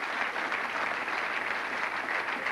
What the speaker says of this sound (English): And the crowd appreciating this contest.